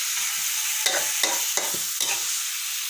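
Pork and cucumber stir-frying in a pan: a constant bright sizzle with four or five distinct scraping stirs of a spatula, close and alone with no talk.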